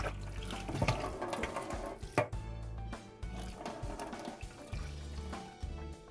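A cleaned boroli fish being washed by hand in water, with close, continuous splashing and sloshing, a brief louder splash partway through, and no voices.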